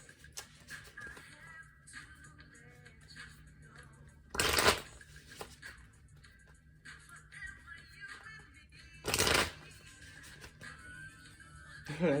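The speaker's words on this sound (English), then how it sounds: "I'm going to shuffle a few times here." Tarot cards from a Melanated Classic Tarot deck being shuffled, with two loud, dense riffle bursts standing out above a quieter background of soft card handling and shuffling.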